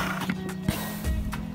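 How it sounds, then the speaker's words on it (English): Horse shifting about close by, a few soft, irregular hoof thuds and scuffs over a quiet hum, with no clear whinny standing out. "Up close and personal with Stressy Horse"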